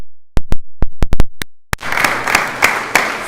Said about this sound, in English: Give cousin another nice round of applause.